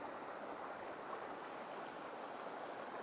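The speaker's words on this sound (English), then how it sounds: "I'm walking down to the creek." A creek flowing beside a campsite gives off a steady, faint, continuous rushing wash of water with no voices over it.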